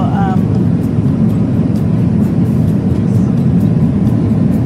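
Steady, loud broadband engine drone fills an airliner cabin in flight from Stockholm to Manila, an unbroken hum that holds constant throughout, with a brief faint voice at the start.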